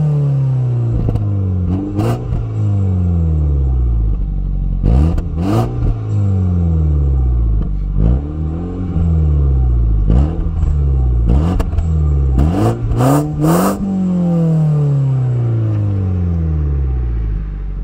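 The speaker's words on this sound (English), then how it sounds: "So here's some engine sounds and revs." A Mini Cooper S engine revs repeatedly, each rev climbing sharply then falling back to a low idle rumble, loud and close with no talking.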